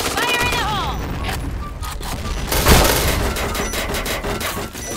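Grenade blasts and rapid gunfire in the shooter game Point Blank, loud dense bursts with a heavy boom near the middle, mixed with game voice lines.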